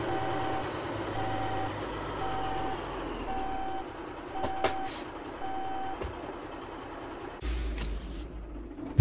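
A truck reversing in the game Alaskan Road Truckers, its steady backup beeper chirping at a regular rhythm over a low engine rumble, with a hiss of air brakes near the end.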